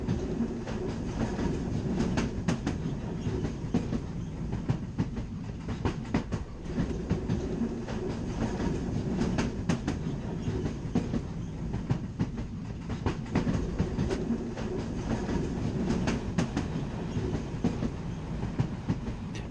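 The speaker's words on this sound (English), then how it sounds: "From Corne, the train traverses the inhospitable and remote Rannoch Moor." A Caledonian Sleeper train crossing remote Rannoch Moor in Scotland, with a steady rumble and clickety-clack of wheels on rail, loud and continuous throughout.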